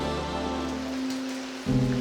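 Rain on a Monday afternoon outside a nearly empty theatre, heard as a steady wash under a sustained low tone that shifts near the end, constant and fairly loud.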